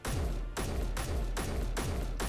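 A rifle in Space Engineers, a sci-fi video game, emptying a magazine: loud, booming shots in steady succession, roughly one every 0.4 seconds, each with a short decaying tail.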